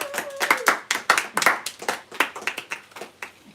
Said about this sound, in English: Are you applauding me or him